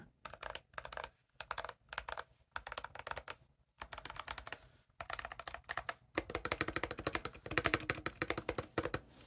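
Rapid typing on a Drop Lord of the Rings mechanical keyboard, crisp clacky keystrokes in quick bursts with brief pauses, growing denser and louder toward the end.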